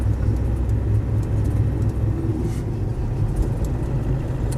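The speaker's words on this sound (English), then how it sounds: "Nice motor on it, so no hesitancy, or importantly no overheating." Land Rover Defender 110 CSW with a 300Tdi diesel engine and 174,000 miles, idling or running steadily on a cold day, giving a continuous low rumble with no other sounds over it.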